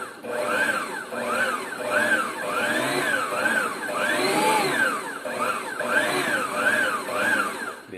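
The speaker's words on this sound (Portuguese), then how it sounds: "caso vocês estejam trabalhando aí com a batedeira, tem que ir ligando e desligando ela" An electric stand mixer beats polvilho biscuit dough, its motor whining in repeated rising and falling sweeps as the beaters churn, loud and close, cycling steadily with no talking.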